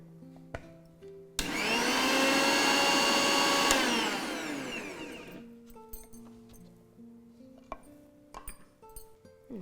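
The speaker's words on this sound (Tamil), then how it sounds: "இது ஒரு ஃபிஃப்டி பர்சன்டேஜ் தான் அரைக்கணும் ரொம்ப அரைச்சிடக்கூடாது" An electric mixer grinder coarsely grinds batter for drumstick leaf appam, whirring up to a loud high motor whine for about two seconds, then winding down into scattered clicks and clatter.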